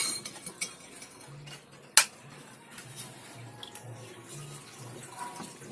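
Peas being rinsed in a bowl of water, with soft splashing and swishing, a sharp clink of metal against the bowl partway through, and quiet kitchen clatter throughout.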